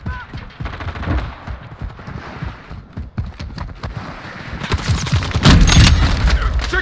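Rapid automatic gunfire during a team deathmatch in Call of Duty: Modern Warfare II, with bursts of close, loud shots that grow heavier and more intense toward the end.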